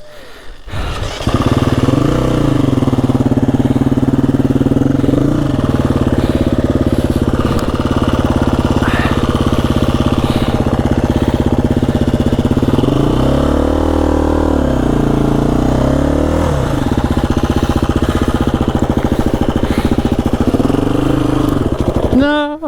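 A KTM EXC-F 350 enduro motorcycle engine runs close and loud on a hard enduro trail, idling and revving in swells with a rising surge partway through, as people talk nearby.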